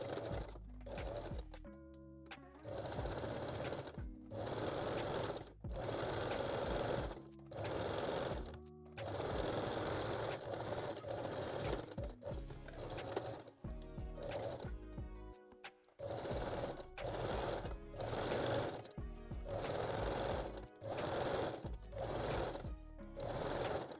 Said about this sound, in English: we can move to regular sewing machine and stitch them together.